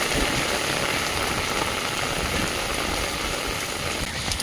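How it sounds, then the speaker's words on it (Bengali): Dense, steady hiss of heavy rain pouring down, a constant loud wash of noise without pause or voices. "কত জোরে বৃষ্টি পড়ছে দেখো"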